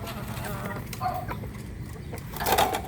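Hens feeding in a grassy area cluck softly and intermittently, with faint scratching and rustling, a few brighter calls near the end, under a steady low background.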